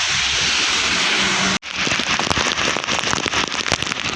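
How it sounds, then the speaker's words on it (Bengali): Heavy Mumbai rain roars as a dense, hissing wash, heard from inside a shop, then after a brief cutoff continues as a crackling patter of drops hitting a surface. "একদম প্রচুর বৃষ্টি, প্রচুর হিউজ"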